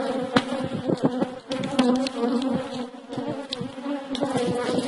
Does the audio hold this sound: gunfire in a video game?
no